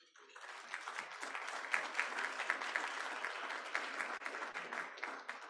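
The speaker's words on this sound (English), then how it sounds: "I think you need to give yourself a round of applause" Rotary Club audience members applaud together, a dense burst of clapping that rises quickly, holds steady and loud for several seconds, then thins out near the end.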